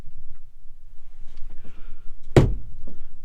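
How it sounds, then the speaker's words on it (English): A camper cabinet door on gas struts swings shut inside a U-Haul CT13 camper trailer, landing as one sharp, close thunk after a stretch of quiet room noise. "they actually hold the doors closed too when you close it."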